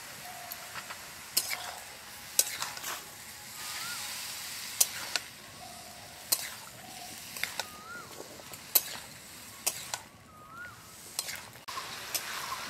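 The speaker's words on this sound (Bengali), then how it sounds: "লাউটাকে খুব ভালোভাবে নেড়ে নিয়েছি" Tender bottle gourd cooked with cumin and green chilli in a pan, stirred without added water: quiet, soft frying hiss broken by sharp, irregular spoon clicks against the pan.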